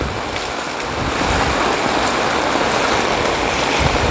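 Floodwater rushes steadily and loudly along a main road during a typhoon, a dense continuous roar of flowing water with no pauses and no voices.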